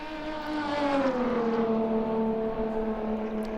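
A race car engine drones steadily at Brooklands Circuit in an Assetto Corsa replay, its tone sliding gently downward as the car holds a loud, continuous run with no talking.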